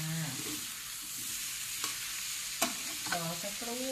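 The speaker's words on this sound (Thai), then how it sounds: "ผัดน้ำมันร้อนๆก่อนอย่าเพิ่งรีบใส่น้ำนะคะ" Zucchini stir-frying in hot oil makes a steady close hiss and sizzle, with a few sharp scrapes and clinks of a spatula against the pan and a voice briefly heard.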